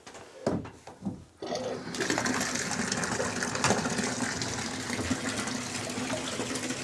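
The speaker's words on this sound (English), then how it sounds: "I'm going to let bath water out, and I'm going to start putting some cool water in" Water gushes steadily into a foot bath, continuous and close, after a few brief knocks at the start.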